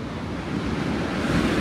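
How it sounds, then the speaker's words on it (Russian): Big stormy sea waves crash and wash steadily near a pier in Batumi, a loud continuous surf roar mixed with wind noise. "посмотрите, какие волны у нас здесь огромные сегодня."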